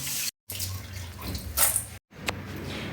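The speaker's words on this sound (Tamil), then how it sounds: "தண்ணி ஊற்றி நல்லா மூணு டைம் நாலு டைம் சுத்தமாக கழிஞ்சிக்கலாம்" Horse gram lentils are swished and rinsed in water in a vessel, with a steady running, sloshing wash broken by two brief silent gaps and a few splashy drips and clinks.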